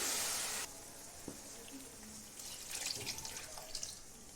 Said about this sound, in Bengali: ভেজে নেওয়ার পরে আমি সামান্য জল দিয়ে দিলাম।